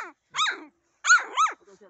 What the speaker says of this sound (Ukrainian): Ух, який злиться, гавкає.